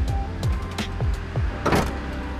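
An old 1970s Range Rover Classic engine idles nearby with a rough, lumpy rumble, punctuated by regular ticking pulses and a brief hiss.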